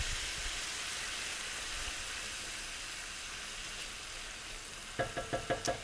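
Steamed vegetables sauteing in a pan for paella give a steady, close hiss of sizzling that runs throughout, ending with a few quick rhythmic taps near the close.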